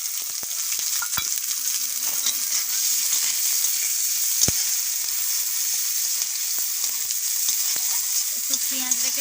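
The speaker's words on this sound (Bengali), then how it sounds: "একটু পেঁয়াজ রেখে একটু ভালো করে ভেজে নিচ্ছি।" Chopped onion frying in hot oil in a wok, a loud continuous sizzle with scattered scraping clicks of stirring, close and steady, no talking.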